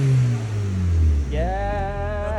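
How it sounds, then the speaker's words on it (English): An MK5 VW Golf GTI fitted with a decat exhaust revs up close and loud. The engine note drops, then climbs again in a smooth rising sweep over a steady exhaust drone. "Go on, Joe, give us a rev."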